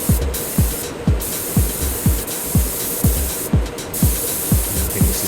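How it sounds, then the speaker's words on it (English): Spray gun applying a coat of paint to the boot lid of an Alfa Romeo 155 during a restoration, in short regular bursts about every half second, loud and close with no talking. "I think this is the third coat of paint."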